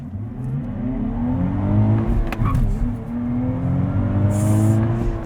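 A 2023 Nissan Z Performance with a twin-turbo V6 and manual gearbox launching hard, its engine note climbing in a loud, steady rising roar, then dipping briefly at a gear change and building again.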